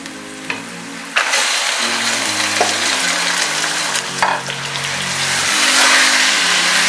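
Mutton liver sizzles loudly in a pan with onion and ginger-garlic paste, a steady hiss of frying broken by scraping stirs, while soft background music plays under it.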